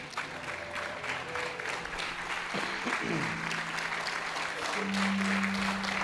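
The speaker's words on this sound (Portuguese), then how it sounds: "aplaudindo a Ele." Church congregation in a Portuguese-language service applauding in praise as they sit down, sustained crowd clapping with sustained tones and other sounds mixed in, moderately loud and continuous.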